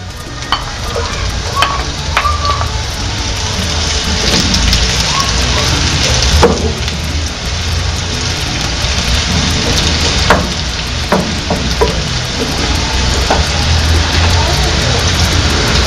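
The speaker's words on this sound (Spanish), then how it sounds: "ya cuando vemos que está medio doradito, le ponemos la cebolla." Onion frying in a pan of rice dish base sizzles and crackles loudly and steadily close up, with occasional stirring scrapes and a person talking over it.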